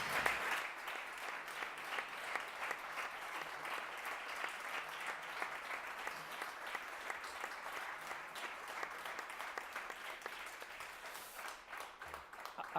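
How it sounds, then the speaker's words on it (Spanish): A conference audience at an emergency-engineering event applauds a guest, a steady rattle of clapping heard at a distance and fairly quiet, continuing for over ten seconds before thinning out. "yo creo que se merece un gran aplauso"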